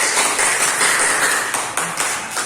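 A classroom group claps for a presenting student group, the steady patter of many hands filling the room for a couple of seconds with no talking.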